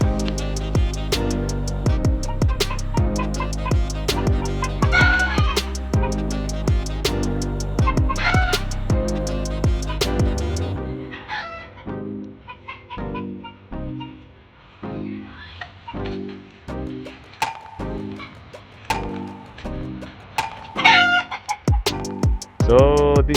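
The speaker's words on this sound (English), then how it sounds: "So this is called DARAG chicken guys." Darag chickens, a native breed, cluck and crow on a family farm, with dense overlapping calls loud and close at first, then thinning into scattered intermittent clucks and crows.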